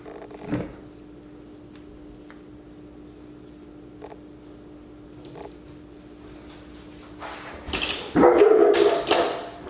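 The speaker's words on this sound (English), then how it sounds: "my dogs are barking" Dogs barking indoors, a brief yip near the start and then a louder burst of several barks near the end over a quiet room hum.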